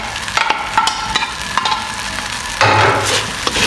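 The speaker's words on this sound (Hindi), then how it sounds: "अब इसमें हम अंडा डालेंगे जो हमने करके रखा हुआ है" Egg tipped into chicken fried rice in a hot pan, a steady sizzle with scraping stirs and spatula knocks, then a louder burst of frying as the egg hits the oil.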